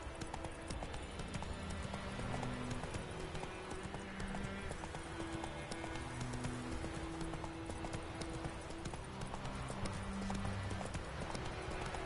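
Roach, the horse in The Witcher 3, gallops in a fast, steady hoofbeat rhythm that runs through the whole stretch. It sits fairly low under game music and ambience.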